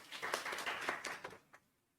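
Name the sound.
applause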